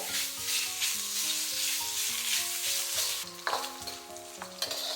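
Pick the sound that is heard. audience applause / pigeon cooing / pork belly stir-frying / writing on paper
pork belly stir-frying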